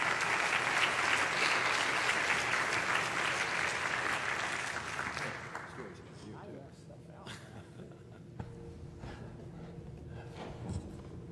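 An audience applauds to welcome Dr. Ronald J. Falk to a lecture on autoimmunity and ANCA vasculitis, a loud, dense burst of clapping that fades after about six seconds into quieter room noise with scattered claps.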